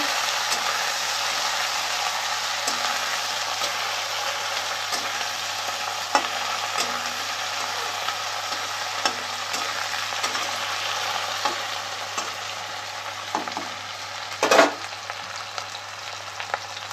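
Small diced potatoes frying in a pan with soya and methi greens, a steady close sizzle with faint stirring scrapes running throughout and one brief louder knock near the end, no voices.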